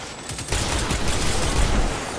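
Dense, loud gunfire from sniper rifles rattles in a continuous barrage during a Destiny 2 strike, with no voices over it.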